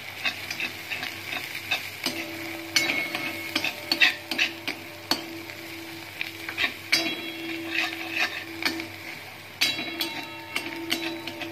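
A spoon stirs red chili powder into a frying masala paste for dal tadka, scraping and tapping against the pan in irregular strokes over a low, continuous sizzle.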